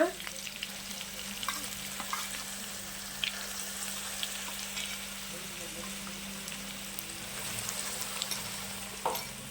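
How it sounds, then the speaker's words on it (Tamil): Ginger garlic paste sizzles and fries in a hot pan for chicken gravy, with occasional scrapes of stirring, a steady crackling hiss close by throughout. "நல்லா வணக்கி விட்டுருங்க பச்சை வாசம் போகட்டும்"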